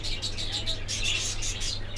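Australian white doves and other caged birds in a bird shop chirp and coo in quick repeated bursts, with faint voices underneath.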